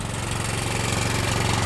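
A portable fire pump engine with an exhaust primer runs steadily, a loud, close, continuous rapid-pulsing drone with no talk over it.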